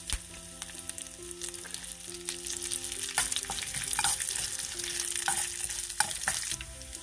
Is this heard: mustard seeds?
yes